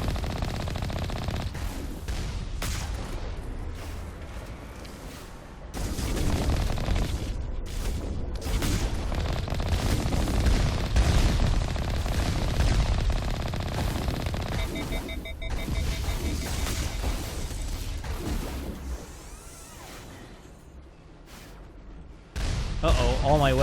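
Enemy gunfire in the video game Mass Effect rattles in fast automatic bursts with heavy booms and thuds, loud and continuous over most of the stretch while someone talks excitedly over it.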